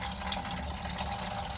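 Coolant pouring out of the radiator drain plug of a Freightliner Cascadia truck into a bucket, a steady even splashing stream heard up close with no talk.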